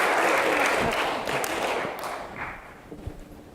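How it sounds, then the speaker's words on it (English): An audience claps for a volunteer at a foreign-language workshop, a broad wash of applause that starts full and loud, then thins and fades over a few seconds, with a few scattered claps trailing at the end. "Let's give her a round of applause just for being brave enough to try it."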